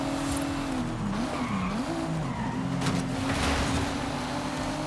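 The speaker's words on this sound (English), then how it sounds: "So we were hard on the brakes there" A car in the video game Forza Horizon 5 brakes hard, its tires squealing and skidding in a long wavering screech over a steady engine drone, loud and close, with no talking.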